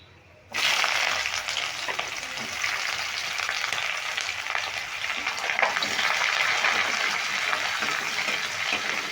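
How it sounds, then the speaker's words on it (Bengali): Chopped onion tossed into hot oil in a pan bursts into a loud, dense sizzle that holds steady and close with no talking. "পেঁয়াজটাকে একটু মেরে ভেজে নেব"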